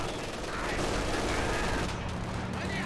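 A Quad anti-aircraft gun in Company of Heroes 2 fires a steady, dense stream of rounds for a few seconds, loud and continuous with battle noise underneath.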